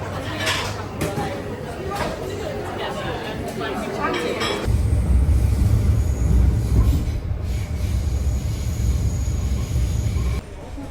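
A train runs on rails in Barcelona, with a continuous low rumble and rattle of wagons that grows louder midway, while people chatter nearby.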